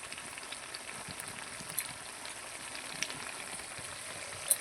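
Chicken for biryani fries in a pan as biryani masala goes in, a soft, steady, rain-like sizzle with a few faint clicks and taps, heard fairly quietly and without talk.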